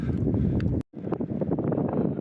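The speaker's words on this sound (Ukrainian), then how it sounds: "такий вітер почався" Strong wind near a hilltop castle in Montesarchio, Italy, buffets the microphone with a continuous low rumble, cutting out briefly for a moment before the gusty roar returns.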